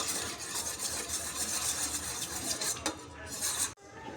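Yogurt batter for an oats cake whisked briskly in a bowl, a close, constant scraping and clinking of a utensil against the bowl with a brief pause near the end, without speech.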